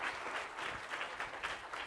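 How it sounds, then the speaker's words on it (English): An audience applauding at a presentation on innovative work, a continuous, fairly faint wash of clapping with a slightly pulsing rhythm. "A round of applause."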